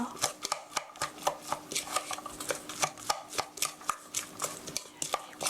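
Ground hamburger steak meat being mixed by hand with black pepper, heard as a fast run of close, wet slapping and squishing pats in an uneven rhythm, with no voices.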